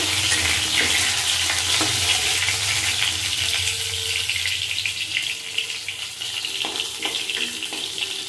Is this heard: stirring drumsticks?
yes